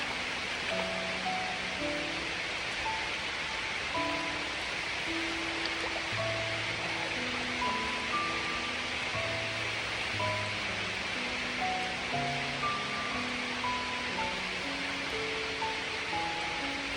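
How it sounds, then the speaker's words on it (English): Rain falls steadily beside a pool in Sri Lanka, a soft broad hiss that stays even throughout with no voices, while faint scattered tonal calls sound in the background. "Love that rain."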